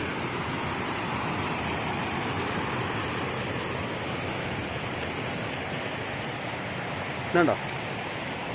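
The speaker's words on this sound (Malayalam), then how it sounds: "ഇതിൻ്റെ മേത്ത് കൂടെ ഇങ്ങനെ വെള്ളം ചാടുന്നതാണ്" The Oorappankettu waterfall at Peechi, Thrissur roars steadily, a dense, continuous rush of falling water filling the scene, with a brief faint voice near the end.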